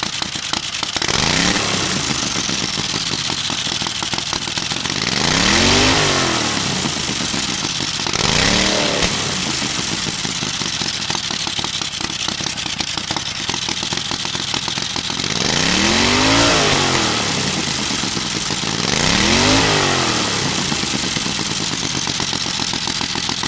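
Turbocharged 670cc offroad buggy engine revving hard again and again, loud and close, each rising and falling surge set over a rough, crackling idle, with no voices.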